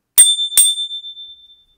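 A bright notification-style bell rings twice in quick succession, each clear metallic ding leaving a thin, sustained ringing tone that fades away over about a second, alone in silence.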